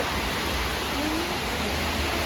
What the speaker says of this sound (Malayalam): ആ വലിയ കാറ്റായിരുന്നു വലിയ കാറ്റ് നല്ല മഴയാണ്